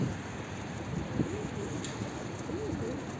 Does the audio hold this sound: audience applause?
no